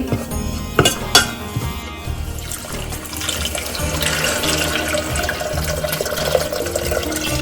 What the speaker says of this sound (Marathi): गरम पाणी ऍड करायचं आहे थंड नाही करायचं